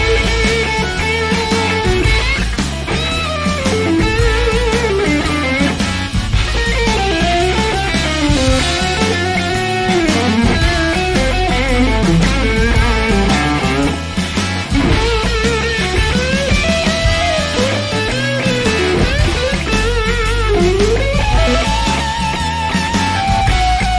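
Electric guitar playing blues licks with bends and vibrato through an amp model with heavy hiss, loud and continuous with a steady high noise bed under the notes.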